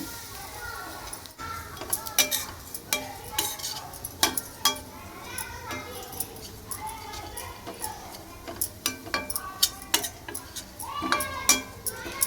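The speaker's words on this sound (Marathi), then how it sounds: "इथं पाव चमचा तूप घेते त्यामध्ये आपण खारीक पावडर भाजून घेऊया" Dry date powder is roasted in a little ghee while a spoon stirs it, giving a string of sharp, irregular clicks and clinks against the pan, with a low murmur of talk underneath.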